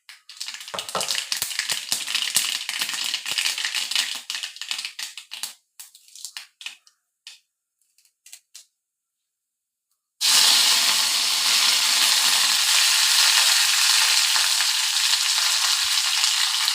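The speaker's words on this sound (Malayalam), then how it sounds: "അപ്പോൾ കടുക് ഇട്ട് കൊടുക്കുക, താളിക്കുക" Mustard seeds spluttering and sizzling in hot oil while tempering a jackfruit curry, dense crackling that thins into scattered pops, stops briefly, then returns as a loud steady sizzle.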